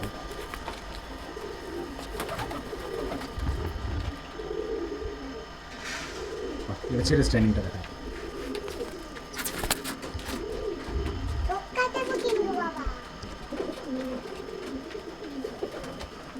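Pigeons of a Tapan Saha bloodline cooing from a loft, low throaty coos repeating irregularly throughout at moderate distance, with a few brief wing flutters, faint background noise and a voice briefly speaking.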